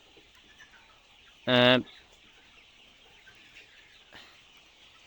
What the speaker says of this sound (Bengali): এটা হচ্ছে আমাদের ৬০ দিনের একটা মুরগির ব্যাচ। এটা মূলত লেয়ার মুরগি।